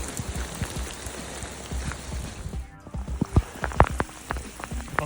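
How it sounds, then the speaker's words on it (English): Steady rain pattering through a forest onto a hiking trail on New Zealand's Te Araroa near Helena Ridge, a dense soft hiss with scattered sharper drops close by, without talk. "not bad having a bit of relief from the rain on this little stretch"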